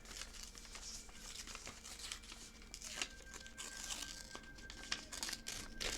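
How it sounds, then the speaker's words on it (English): A paper card being torn by hand, a faint, close crinkling and ripping that runs steadily for several seconds, with no voices. "So I'm just going to tear this off real quick."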